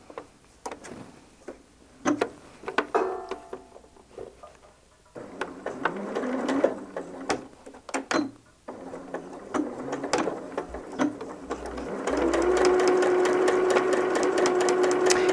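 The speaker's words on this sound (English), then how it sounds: "I'm going to sew that just like we did before." A sewing machine stitches Dresden plate blades together in short stop-start bursts of rapid ticking, close and fairly quiet, ending in a longer steady run of whirring stitches.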